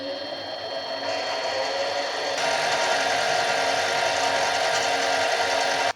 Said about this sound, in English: It's just a thinner lathe bit that is better suited for cutting things off